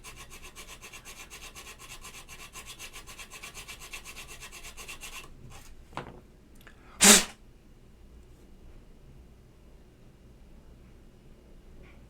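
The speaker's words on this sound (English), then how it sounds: "so we have our plate filed up" Hand file rasping across a keyboard plate for an Alps SKCM White switch build, a steady close scraping texture for about five seconds before fading, then a couple of short knocks and one sharp louder burst.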